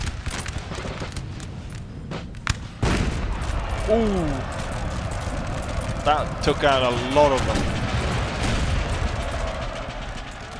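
Cannon and musket fire rumble through a Napoleonic battle in Napoleon Total War as lancers charge the gun line, dull booms layered under steady battle noise while someone talks over it.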